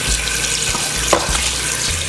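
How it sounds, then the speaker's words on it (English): Cold tap water runs steadily into a sink while beef short ribs are rinsed, a continuous close splashing hiss with slight shifts as the meat is handled. "I'm gonna rinse them in the cold water."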